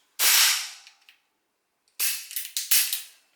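Two suppressed shots from a Beretta 92FS pistol fitted with a silencer, the first a single sharp crack and the second a cluster of close, loud bursts with a quiet gap between, while the pistol fails to cycle.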